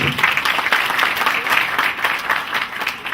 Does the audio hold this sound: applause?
yes